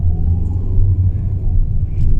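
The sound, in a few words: Mitsubishi Xpander engine revving after ECU remap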